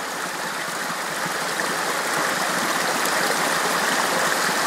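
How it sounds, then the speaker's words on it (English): A river flows through a rocky course near a wild campsite, giving a steady, close rushing and babbling of water that holds at an even level throughout, with no voices. "River courses like this, I always reckon, look absolutely fantastic, and I could just sit here all day listening to them."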